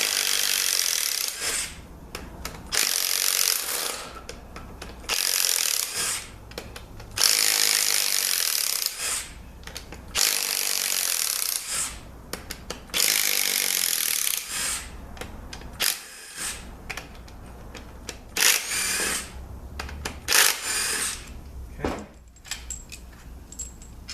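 A power tool runs in repeated bursts, close and loud, as 12 mm bolts come out of a Toyota U151 automatic transmission with a no-movement fault. Short pauses and clinks separate the bursts.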